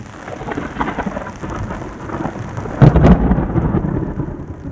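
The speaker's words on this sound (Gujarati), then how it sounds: "જોરદાર વરસાદ." Heavy first-of-season rain pours down over farm fields, with a loud, close thunderclap near the end over a steady roar of rainfall.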